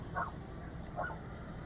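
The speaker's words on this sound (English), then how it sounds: "My dogs are barking." Dogs reacting to distant sirens near a trailer give two short, faint barks spaced under a second apart over a low, steady background.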